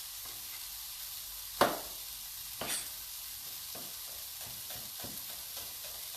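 Tofu scramble frying in a pan, a soft steady sizzle with a few sharp clatters of utensil against the pan and light scraping stirs, close by and with no talking.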